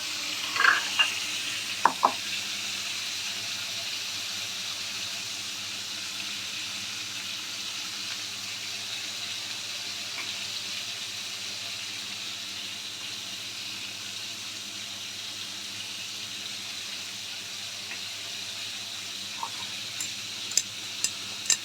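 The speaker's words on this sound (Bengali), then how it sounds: "এবার পটলগুলোকে একটু নেড়ে দেবো" Pointed gourd (potol) fries in a pan over a medium gas flame with a faint, steady sizzle, broken by a few soft spatula taps as the pieces are turned.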